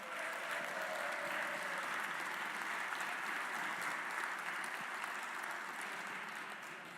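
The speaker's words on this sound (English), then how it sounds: "Please give Rich Stonestreet, my friend, a big round of applause." A legislative House chamber applauds Rich Stonestreet, outgoing president of the West Virginia AARP, with steady, even clapping held at a moderate level that tapers off at the end.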